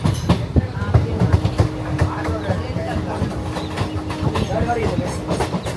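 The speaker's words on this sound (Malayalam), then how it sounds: "നമ്മുടെ ട്രെയിനാണ് ഈ കിടക്കുന്നത്" A train rumbles steadily with rhythmic clicking and clanking close by at Thiruvananthapuram Central railway station, while people talk over the noise.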